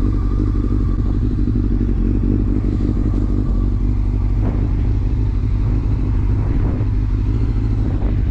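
Sport motorcycle engine revving loudly and close up, a steady low rumble with throttle blips and mechanical clatter throughout, no voices.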